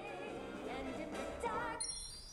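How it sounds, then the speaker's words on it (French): Bright chiming fanfare from a Nintendo Alarmo alarm clock, a short run of tinkling bell-like notes ending in a high rising jingle, played quietly with no talk over it. "une fanfare retentit et la sonnerie s'arrête"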